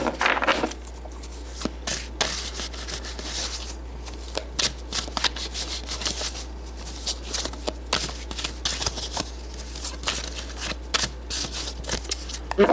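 Tarot cards shuffled close up, a steady stream of crisp riffling and flicking with sharp taps of the deck, heard alone over a low background hum.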